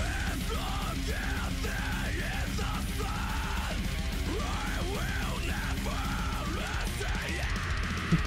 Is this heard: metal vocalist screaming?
yes